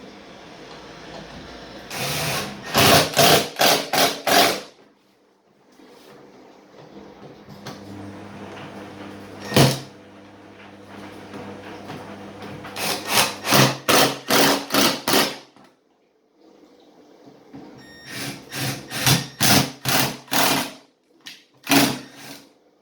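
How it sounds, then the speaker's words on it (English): Bolting a part of a wooden chair back on, with several bursts of rapid ratcheting clicks separated by pauses and an occasional single knock, close by and with no talking. "let's bolt it back on."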